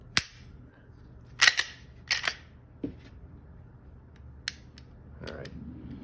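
Trigger of a Smith and Wesson SD40VE pistol dry-fired, giving a few sharp, close mechanical clicks spaced over several seconds, with a faint quiet background between them.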